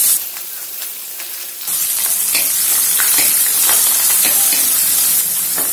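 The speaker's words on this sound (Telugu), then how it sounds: "ఇవి లైట్ గా చిట్లటం స్టార్ట్ అవ్వగానే ఉల్లిపాయలు వేసుకోవాలి." Onions dropped into hot oil already frying with cinnamon and fennel, where a lighter crackle suddenly swells into a loud, steady sizzle that continues close up with bubbling and spitting.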